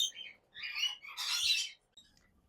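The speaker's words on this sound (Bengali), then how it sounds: "আমরা আপুর পাখিগুলো দেখলাম পাখির কালেকশন দেখলাম" Foreign pet birds at a bird farm give a few short, bright chirping and squawking calls close by, in bursts separated by brief pauses, with no talking.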